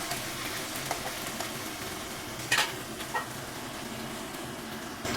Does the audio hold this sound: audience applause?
no